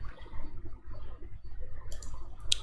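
Two crisp, light mouse clicks in the Godot editor arrive close together near the end, faint against a low, murmuring room background.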